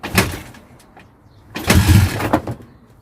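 Kickstart attempts on an engine in a workshop: two bursts of thumping, mechanical effort, one short and one longer, with brief clattering between, close by and without a sustained running note afterward.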